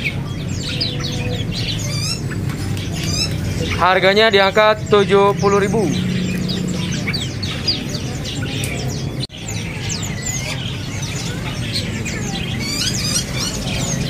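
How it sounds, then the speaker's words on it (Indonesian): Kopi-kopi birds for sale at a bird market keep up a continual stream of sharp chirps and trills, loud and close, while someone talks over them and market noise hums underneath. "Ready stock untuk hari ini burung kopi-kopi ya."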